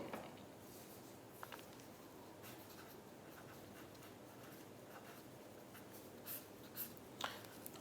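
Marker or chalk scratching across a board in a lecture room on pulleys and mechanical power transmission, a faint continuous scraping with a few short taps, steady and low over quiet room noise.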